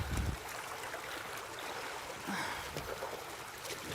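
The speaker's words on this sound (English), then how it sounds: "And we're pumping some water here. That's running perfect right there." Pumped water running through a portable gold sluice box out in the open, a continuous rushing trickle and gush heard up close, steady throughout, with no speech.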